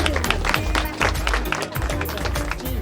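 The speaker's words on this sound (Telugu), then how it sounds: "చప్పట్లు కొట్టి మీ సమ్మతి తెలపండి" Guests at an engagement ceremony clap steadily together in a dense, continuous patter, with voices mingled in the room.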